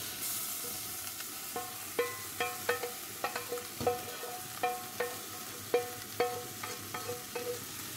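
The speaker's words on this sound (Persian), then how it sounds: "یکم که آبش جمع شد و به روغن افتاد بردم و ریختم روی گوشتا." Stew sauce frying in oil in a pot as it is poured over meat, a steady sizzle punctuated by repeated sharp metallic clinks and taps of a utensil against the pan, close and fairly loud.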